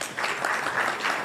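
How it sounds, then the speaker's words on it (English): Audience applause at a public finance panel event, a dense, steady wash of clapping from a live crowd that runs loud and continuous for its short length with no talk over it. "Makofi kwake."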